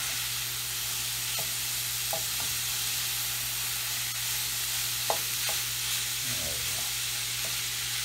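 Sausage frying in oil in a pan, a steady close sizzle with occasional scraping stirs from a wooden spatula and no talk.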